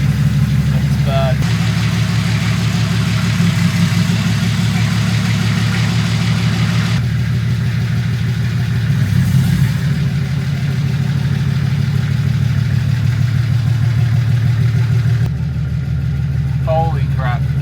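A car engine idles and runs with a loud, steady low rumble just after driving out of a shed, its touchy clutch still being sorted, with voices faintly underneath.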